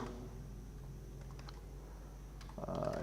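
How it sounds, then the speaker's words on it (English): Fingers type on a computer keyboard, a faint run of soft, scattered key clicks set against a quiet room hum, with a slightly louder burst near the end. "Now let me type here, YouTube,"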